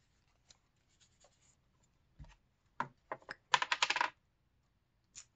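Quiet, scratchy pen strokes writing a word onto a flat handmade paper booklet, heard as a few short separate bursts with brief pauses between them and a cluster of quick strokes near the end.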